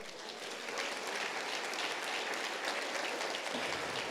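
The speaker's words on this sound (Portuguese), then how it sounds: "Você pode aplaudir ao Senhor?" A church congregation applauds during a Portuguese-language prayer service, a dense, steady wash of many hands clapping that holds evenly throughout with no voices standing out.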